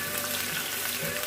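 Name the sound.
onions frying in palm oil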